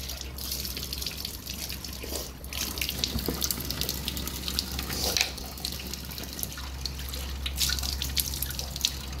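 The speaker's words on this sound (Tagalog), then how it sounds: "Hugasan ng kamay dito, guys." Water runs steadily from a tap in a garage while hands are rinsed beneath it, with faint drips and splashes in a quiet, echoing space.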